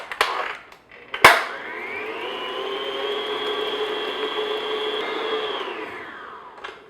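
Electric mixer at medium speed beating an egg into chocolate chip cookie dough: a couple of knocks, then a steady whirring motor drone for several seconds that winds down at the end.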